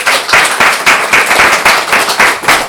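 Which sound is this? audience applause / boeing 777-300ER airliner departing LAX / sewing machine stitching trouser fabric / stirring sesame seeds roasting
audience applause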